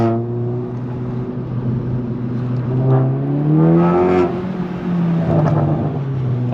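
A VW Golf 7.5 GTI Performance with 245 horsepower and a Ragazon exhaust revs steadily, its engine note rising and falling in a few strong swells, loud and close with no talking.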